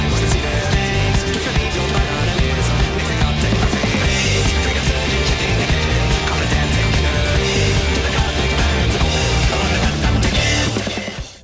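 Final Fantasy XVI video game music playing the pre-chorus passage of a track: a dense, loud orchestral and band texture with a syncopated rhythm that builds steadily and runs continuously without voices before cutting off at the end.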